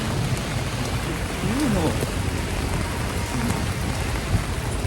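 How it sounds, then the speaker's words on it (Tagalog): Steady heavy rain pours down throughout in Manhattan, with a voice speaking briefly over the downpour. "Nabot na po kami ng ulan."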